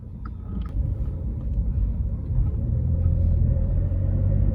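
A car with an automated manual gearbox accelerates from inside the cabin, its engine rumbling low and steady, the drone building gradually with subtle dips as gears change.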